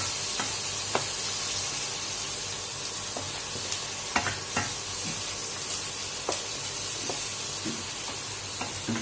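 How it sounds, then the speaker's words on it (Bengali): Charred chicken pieces are stirred through a spice mix in a hot pan, a soft continuous sizzle punctuated by irregular scrapes and knocks of the spoon against the pan, close and fairly quiet, with no talking. "দিয়ে এই মশলাটার সাথে ঠিক এপিট ওপিট করে নাড়াচাড়া করে"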